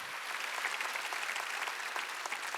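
Congregation applause during a Wednesday church worship service, a steady, bright wash of many hands clapping continuously, fairly even and unbroken, with no speech over it.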